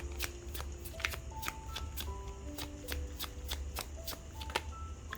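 Tarot cards are shuffled by hand during a reading, giving a dense run of crisp riffling clicks and slaps close up, repeating steadily throughout with no talking.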